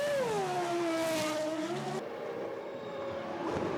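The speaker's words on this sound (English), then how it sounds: "Eddie Irvine's pit stop at Ferrari" Eddie Irvine's Ferrari Formula One car makes a pit stop in the 1999 season with a loud, high-pitched engine note that falls in pitch, then cuts to a rougher, steadier roar of engine noise.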